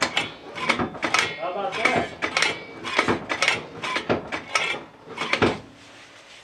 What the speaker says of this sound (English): let me go inside and pull the emergency brake, work it, and you can see these shoes working